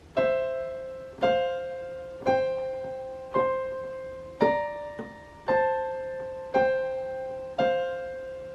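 A piano plays a slow introduction of sustained chords, struck about once a second and left ringing, with no voices.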